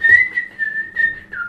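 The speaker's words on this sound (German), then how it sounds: "Nicht so laut pfeifen" Loud, sustained whistling with a steady pitch, broken into several short phrases over a second and a half, heard alone with no talking.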